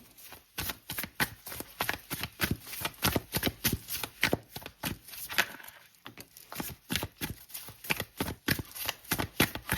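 Tarot cards shuffled by hand at close range, a steady stream of crisp riffling flutters repeating in a quick rhythm for the whole stretch, at moderate volume with no voice.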